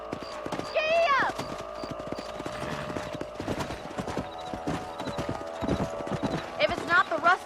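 Horse hooves clip-clop steadily in the Red Dead Redemption video game, a rhythmic trot running throughout with neighs and whinnies at the start and end, under music and a man's speech.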